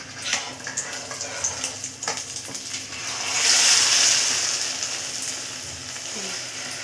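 An egg masala omelette cooks in a pan with a soft, steady sizzle, swelling briefly louder partway through before easing back, with no talking.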